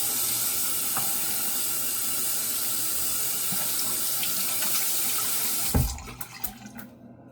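A water tap runs steadily as a shaving brush is rinsed before loading it with soap, a constant close hiss and splash that cuts off near the end, followed by a few drips and small clatters.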